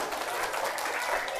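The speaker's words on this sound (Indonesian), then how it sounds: "Tepuk tangan dong untuk Bapak" An audience in a school socialisation session on preventing violence and bullying applauds speaker Rijal, a dense, steady wash of clapping that fills the whole moment at close range without a break.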